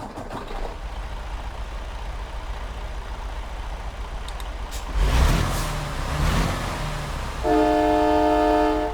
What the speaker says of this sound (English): Of course, the train horn